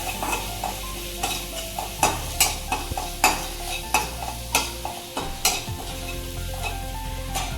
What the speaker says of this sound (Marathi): ओके आता मिरची छान परतली